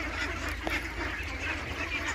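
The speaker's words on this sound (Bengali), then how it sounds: "আমরা হাঁসগুলোকে আজকে বাইরে ছেড়ে দিয়েছি।" Ducks on a duck farm, let out in the afternoon, call with steady quacking close by over a constant low background hum, one slightly louder call near the middle.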